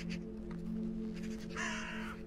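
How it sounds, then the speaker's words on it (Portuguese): A crow in the video game Island Mystery caws a few times against a steady humming ambient background, near and clear, with no speech. "cadê esse corvo que não para de berrar no meu ouvido?"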